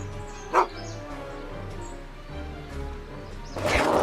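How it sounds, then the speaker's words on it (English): A dog barks in a video game, with one sharp yip near the start and whimpering, yappy barks over steady game music and background ambience. A burst of noise comes at the end. "Get away from me, you crazy mutt!"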